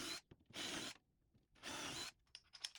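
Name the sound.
power drill with 3/8 drill bit drilling plywood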